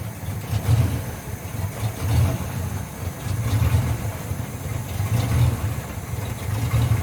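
The left engine of a Luhrs 28 boat idles with a steady low rumbling chug and a gently pulsing throb, loud and close, with no talking.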